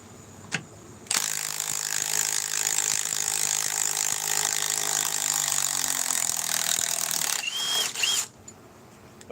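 A Milwaukee power tool, a ratcheting impact driver, runs loud and close for about seven seconds while removing a fastener, with a rapid hammering rattle and a pitch shift near the end before it stops.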